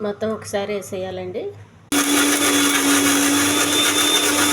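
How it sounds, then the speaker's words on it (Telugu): A mixer grinder blends coconut chutney with salt and a little water, starting abruptly after a brief spoken line and running loud and steady with a constant motor whine through the rest. "కొద్దిగా వాటర్, మిక్సీ చేయాలి"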